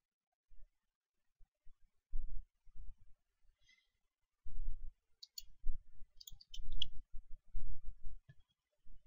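Sparse, soft computer mouse clicks come in small irregular clusters with pauses between them, close and quiet against near silence.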